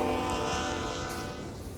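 CSX freight train M647 heading south past the greaser at Morton's Gap, Kentucky, on the Henderson Subdivision: a steady, loud rumble with a harmonic engine drone and grinding wheel noise, continuous throughout.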